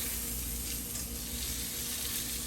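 A salmon fillet, herb crusted with the skin crisping, sizzles steadily in a hot pan after the flip, a constant close, even hiss with no voices.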